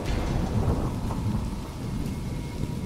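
Heavy rain pours steadily and loudly outdoors while deep thunder rumbles through it, a continuous dense storm wash with no voices.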